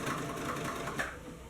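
A sewing machine runs steadily, stitching back and forth over fabric while a shirt is turned into leggings, with a close, continuous motor whir and rapid needle rhythm.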